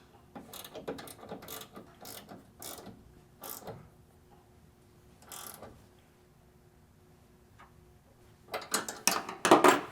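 A 10mm ratcheting wrench clicks in short bursts while tightening bolts on a loading ramp install on a Ram ProMaster van, with close ratchet pawl ticks and quiet gaps between strokes.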